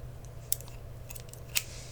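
Two sharp metallic snips from scissors stand out over a low hum, close and crisp, with softer clicks in between.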